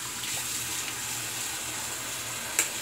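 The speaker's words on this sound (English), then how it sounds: "So I'm going to wet the face with cold water." Water runs steadily from a bathroom sink tap for a shave prep, a continuous hiss with a brief splash or clink near the end.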